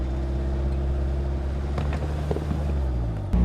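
A 2021 Land Rover Defender 110 creeps in low range onto a ladder obstacle during off-road testing, its engine a steady, close, low drone that holds evenly before cutting off abruptly at the end.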